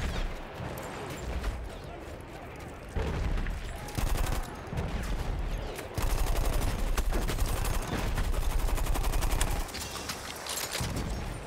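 Rapid bursts of automatic fire from a Parabellum light machine gun in Battlefield 1 rattle almost continuously, loud and dense, with brief pauses between long sustained volleys.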